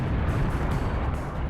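A Falcon 9 rocket exploding on a Florida launch pad during fueling in September 2016 gives a deep, sustained rumbling roar, loud and steady through the short stretch, with no voices.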